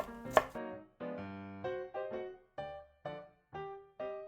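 A knife finely chopping onion on a board in steady, evenly spaced strikes, close and crisp, with one sharper hit at the start.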